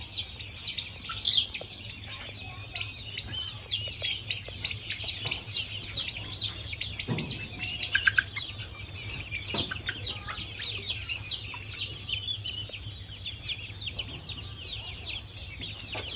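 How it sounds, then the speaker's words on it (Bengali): Steady clucking and chirping from a flock of turkeys and chickens, continuous and fairly close, with constant background noise throughout. "এটা হচ্ছে বড়গুলো টার্কি মুরগি"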